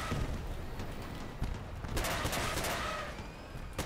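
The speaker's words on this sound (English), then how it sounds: "Just firing everything on this guy." Missile swarm from a trombone-style weapon in a video game firing a dense, continuous barrage with overlapping explosions, loud and steady throughout with no pauses.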